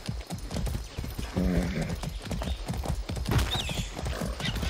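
Rhythmic clip-clop of horse hooves close by in the video game Far Cry 6, steady and continuous, with a brief whinny partway through.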